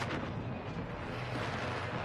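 Dense, continuous rumbling blasts from an airstrike in a video game, a loud sustained barrage of overlapping explosions with no clear gaps between impacts.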